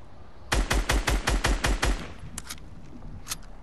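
A rapid burst of about eight close, loud gunshots from Fortnite, evenly spaced, followed by a few fainter scattered shots in the distance.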